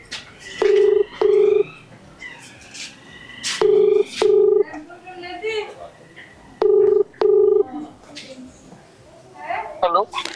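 Phone call being placed: three paired bursts of steady ringback tone at regular intervals, with short button beeps and voices talking in between.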